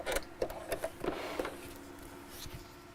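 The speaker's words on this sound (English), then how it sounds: "Let's just sew that over there again." A sewing machine stitches fleece in short bursts, its needle thumping in quick repeated pulses with a steady motor hum that carries on after the stitching stops, close and moderately loud.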